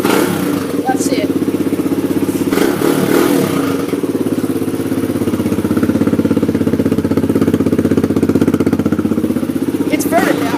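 A motorbike engine runs loudly and steadily nearby for the whole stretch, a throbbing mid-pitched idle that rises slightly in the middle, with a few clatters and brief noises over it.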